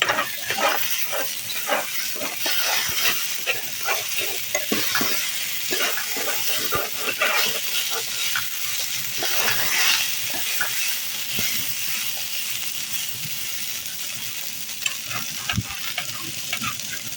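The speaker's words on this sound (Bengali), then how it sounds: "হলুদটা দেওয়ার পরে আরও একটু নাড়াচাড়া করে দিলাম" Potatoes coloured with turmeric stirred and fried in a pan: a steady close sizzle runs throughout, broken by repeated scraping strokes of the stirring spoon, with no talking.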